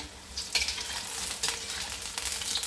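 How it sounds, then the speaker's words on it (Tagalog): Eggplant slices sizzle loudly in hot oil in a frying pan, a constant crackling hiss broken by a few sharp scrapes and clinks as the pieces are turned or stirred. "ganito lang guys ang aking pagprito ng aking eggplant"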